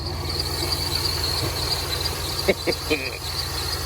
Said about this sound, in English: got a nasty belt squeal.